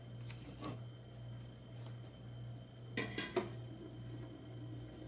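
A lid is set onto a pot of Bajan split peas and rice, giving a short cluster of close metallic clanks over a steady kitchen hum, with a faint clink just before.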